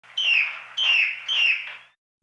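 A yellow parrot gives three loud, shrill calls in quick succession, each about half a second long, close by and with no other sound around them.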